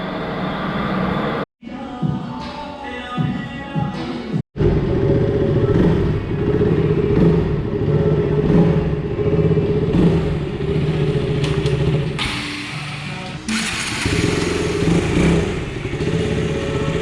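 A KTM Duke 200 motorcycle engine runs loud and close, holding a steady throaty drone with two brief cutouts early on and harsher revving bursts toward the end, with no voices.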